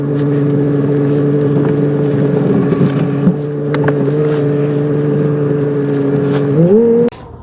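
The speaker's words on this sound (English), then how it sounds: "I'll take it for a little test drive." A Jeep XJ with an exhaust leak and a charging fault drives on a test drive, its engine droning steadily and loudly close by, then rising in pitch as it revs up near the end before cutting off abruptly.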